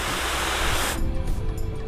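A spray bottle set to mist sprays water onto car paint in one long hissing burst lasting about a second, followed by quieter background.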